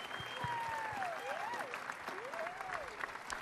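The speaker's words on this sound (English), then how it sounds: "Let's give them a huge round of applause." An audience applauds after a performance at a St Patrick's Day breakfast, steady clapping throughout with a sliding whistle-like tone and some faint crowd noise mixed in.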